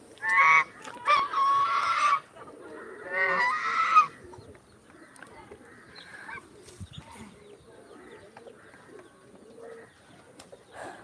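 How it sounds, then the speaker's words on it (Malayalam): Loud goose honks in a few harsh bursts up front, then quieter bird calls and rustling continue through the rest. "ഇത് നമ്മളെ ഗൂസ്"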